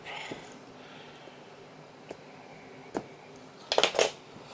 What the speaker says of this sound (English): Got my trusty dull knife here. So let's go ahead and open it up.